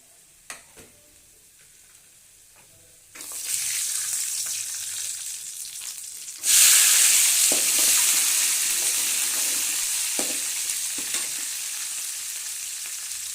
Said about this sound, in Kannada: ಉಪ್ಪು ಹಾಕ್ಕೊಂಡು ಚೆನ್ನಾಗಿ ಫ್ರೈ ಮಾಡಿ